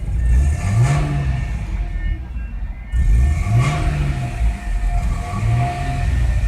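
A 1998 Audi A6 quattro with a 2.8-litre engine and a rough idle is revved repeatedly in loud, close surges, each rise in pitch dipping first and then falling back to a low, uneven idle.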